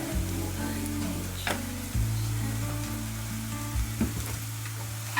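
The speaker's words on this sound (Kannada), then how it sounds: "ಈರುಳ್ಳಿ ಸ್ವಲ್ಪ ಫ್ರೈ ಆಗಲಿ." Onions frying in oil with a pinch of turmeric for ragi shavige upma, giving a continuous close sizzle over a steady low kitchen hum, with a few louder crackles and stirring knocks.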